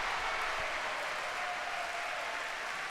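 A Davis Cup doubles tennis crowd cheering for Singapore against Sri Lanka, a dense, steady roar of applause and shouting that fills the whole stretch without letting up.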